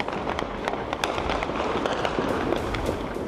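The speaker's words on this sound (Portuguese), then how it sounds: "Os tiros não pararam e acordaram os moradores do Complexo da Penha" Rapid, irregular cracks of gunfire during a police operation in Complexo da Penha in Rio's north zone ring out faintly and at a distance, in a dense, continuous volley.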